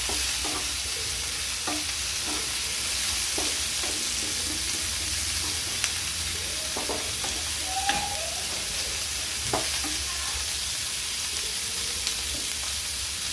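Chicken frying with salt in a pan, a steady soft sizzle with scattered scraping taps of a spoon stirring through it, close and fairly quiet, no voices.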